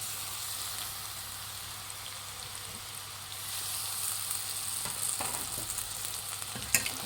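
Grated raw mango is stirred with turmeric in hot oil in a frying pan, giving a soft, steady sizzle with scraping spatula strokes that grow a little busier toward the end.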